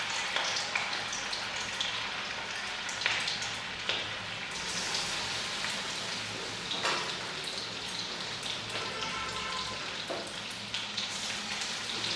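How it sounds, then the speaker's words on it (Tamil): Fish pieces dipped in a maida and corn flour batter deep frying in hot oil, a steady dense sizzle and crackle with occasional louder pops running continuously throughout. "இதே மாதிரியே எல்லாத்தையும் வறுத்துடலாம்"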